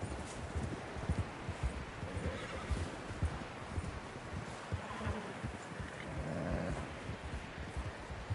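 Horse hooves clip-clop and a horse neighs in the Red Dead Redemption 2 video game, a steady trot with a whinny over an outdoor ambience, no one talking.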